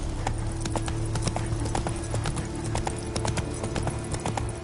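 Roach, a horse in The Witcher 3: Wild Hunt (Blood and Wine), gallops with a steady, rapid clip-clop of hooves, loud and close over a continuous low rumble of game background.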